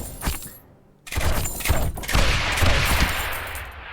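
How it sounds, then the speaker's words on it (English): Mortar and ballista towers fire in the Rogue Tower video game, producing dense bursts of explosive booms and cracking impacts that pause briefly, then pile into a sustained, busy barrage. "I want to give the mortars as much time to smash them as possible"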